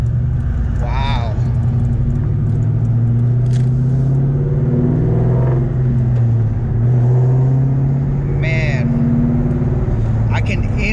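An SVT Terminator Cobra drives off and accelerates, its engine rumbling steadily and rising in pitch through the gears, with someone speaking over the engine noise.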